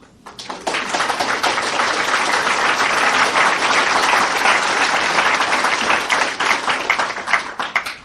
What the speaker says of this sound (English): And you applaud, and so you should